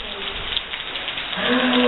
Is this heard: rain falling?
yes